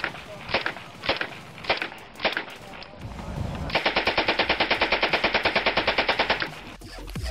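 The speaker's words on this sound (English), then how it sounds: "I've actually got a video of this SMG, exact SMG, firing" An SMG in the mobile game Respawnables fires a few separate shots, then one long, very rapid burst lasting about three seconds, loud and evenly paced.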